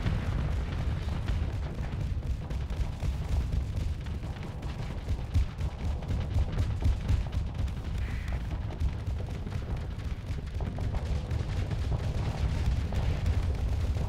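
Auto cannons fire repeatedly from a ship in a space combat video game, with dense booms and bursts running as a continuous loud barrage throughout.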